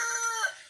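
Rooster crowing on a small mini farm holding Brahma and layer chickens, a single harmonic-rich call lasting under a second, fairly close and clear, tapering off at the end.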